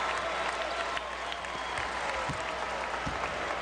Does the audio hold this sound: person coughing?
no